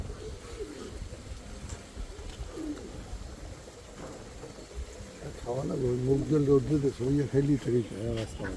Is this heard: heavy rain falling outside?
no